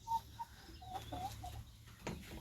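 Hybrid laying hens, pullets about 21 weeks old, give several short clucks and soft calls close by, scattered irregularly over a quiet low background hum.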